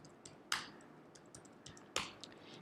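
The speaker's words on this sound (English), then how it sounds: "So I'm just typing my name." Typing on a computer keyboard, soft scattered key clicks with two louder, sharper keystrokes close by, no talking.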